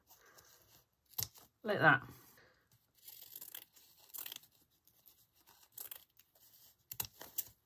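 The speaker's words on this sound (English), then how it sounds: "cut down towards your scissors, but take forever to do it" Scissors snipping wide ribbon into a dovetail end, one crisp cut close and fairly loud, with softer handling rustles and a person talking briefly around it.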